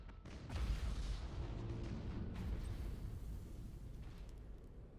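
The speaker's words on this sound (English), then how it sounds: "Them missiles are going to kill him." Missile volley explosions in the space battle game Battlefleet Gothic: Armada, a rolling series of deep booms and blasts that swell early and keep rumbling loudly throughout.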